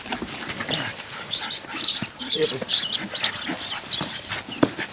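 Ratting dog whimpering and snuffling among hay bales during a rat hunt, high thin whines coming and going throughout, with people talking nearby.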